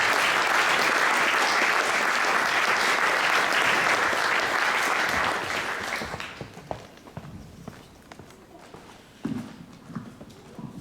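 An audience at an awards event in Ljubljana's old power station applauds a kayaker with loud, sustained clapping that fades after about six seconds into scattered claps and faint crowd noise.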